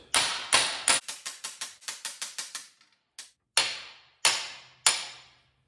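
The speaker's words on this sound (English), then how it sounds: "Knocking the other bushings out." A hammer knocks bushings out of the axle of a 1969 Chevy C30 truck being converted to a K30 4x4 with junkyard parts. It lands a rapid run of about a dozen sharp metallic strikes, then a few slower, louder, ringing blows, close and alone.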